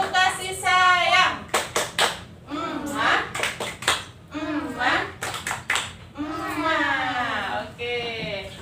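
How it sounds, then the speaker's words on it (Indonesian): Children in a classroom perform the rhythmic 'tepuk kasih sayang' clapping routine, chanting in unison between tight clusters of quick, sharp hand claps that fall in a repeating pattern. "Tepuk kasih sayang."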